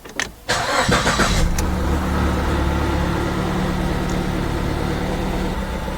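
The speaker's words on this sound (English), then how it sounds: "Start the engine or crank." A Ford E-series van cranks briefly and catches during an EVAP system test, then settles into a steady, loud idle with no talk.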